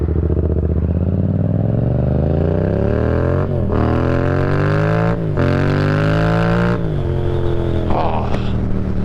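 A tuned 2018 Yamaha MT-07 motorcycle engine with an aftermarket exhaust revs loudly up and down through several gear changes, a close, continuous, rasping roar with brief dips between shifts.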